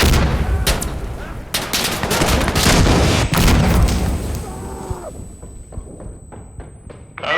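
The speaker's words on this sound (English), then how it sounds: "Launch a grenade!" In the video game Insurgency Sandstorm, a grenade launches and bursts. Loud booms and bursts of gunfire crowd the first half, then fade to scattered distant shots and echoing thuds, with a thin high whine lingering.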